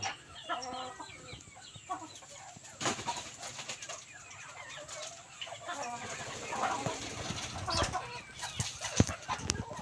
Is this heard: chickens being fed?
yes